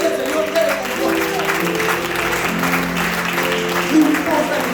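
A congregation at a Panamanian revival church service applauds steadily, the clapping blended with sustained music and a voice speaking over it throughout.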